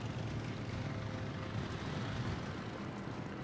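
Planes in the World of Warships video game drone overhead with a steady engine roar, blended into a dense rumbling background of naval combat.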